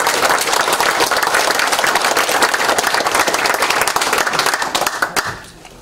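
Sustained applause from an audience at a political campaign rally for election candidates, dense clapping filling nearly six seconds and fading out at the end.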